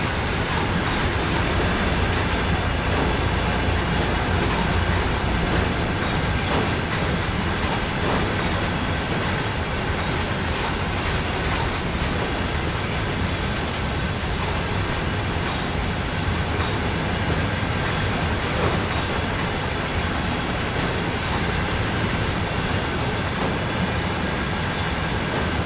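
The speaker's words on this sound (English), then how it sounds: "Letting this whole train go by." A long freight train rolls past in the Train Sim World 4 game on an uphill run out of Cheyenne, its continuous loud rumble of wheels and wagons steady and close for the whole stretch, with no talk.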